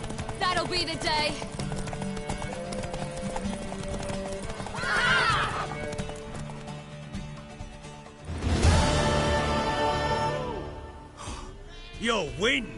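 A horse in The Witcher video game clip-clops along with hoof beats and lets out several loud whinnies, mixed with game music and effects.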